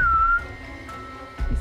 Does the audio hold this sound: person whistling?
yes